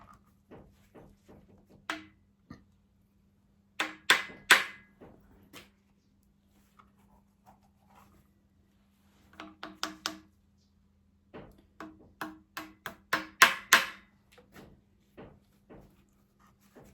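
Small pins are tapped into place on a TEF 20 engine during a rebuild, heard as a series of sharp close metallic taps in irregular clusters separated by quiet pauses.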